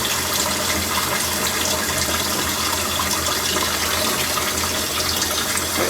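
Water pours steadily into a Panda Portable Washer as it fills, a constant loud gushing rush with no breaks and no talk, heard up close.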